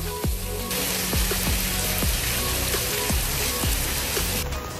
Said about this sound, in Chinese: 太大雨了，这边塑料很难打